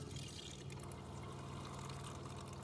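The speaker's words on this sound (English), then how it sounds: "right now the hot water is really hot and I'm not getting any cold water" Hot water running from a van shower, a steady hissing, splashing stream pouring without pause, close and moderately quiet, no talk.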